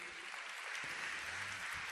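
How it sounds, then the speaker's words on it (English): A concert audience claps to welcome an Electone organ artist onstage, a brief wash of applause heard at moderate distance. "Let us welcome Mr. Masahide Nakano with a round of applause, please."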